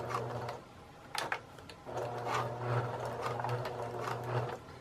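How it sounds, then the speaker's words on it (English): A sewing machine runs steadily, backstitching to repair a purse strap with a D-ring, its needle chattering in a continuous hum with a brief pause and a few knocks. "I'll just lower my presser, lower my needle, and I'll backstitch"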